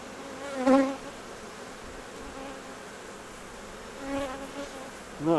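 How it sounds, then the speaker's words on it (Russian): Bees buzz steadily while a swarm is moved from a trap into a hive, a constant close drone with a few louder, higher passes as individual bees fly near. "Пчела пугливая, злобливая."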